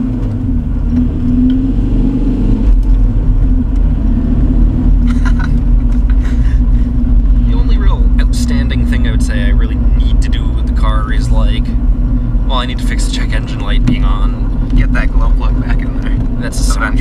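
Diesel engine of a Volkswagen MK4 TDI wagon pulling hard from low RPM, a loud steady rumble with rising revs heard from inside the car, joined by voices speaking over it.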